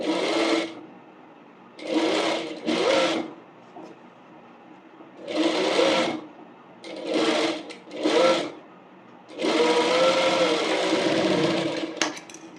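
A tailoring sewing machine stitches a curved bonnet seam in about seven short whirring bursts, ending in a longer run. It sounds close and clear, with brief pauses between the bursts.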